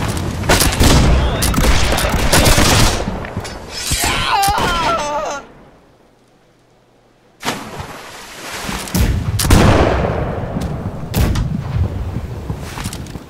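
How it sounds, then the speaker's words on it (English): Broadside cannons on a sailing ship in the naval combat game Blackwake boom and crash in heavy, overlapping volleys with splintering impacts, a brief near-silent pause, then another loud barrage, with shouted voices mixed in. "Yeah, right side cannons."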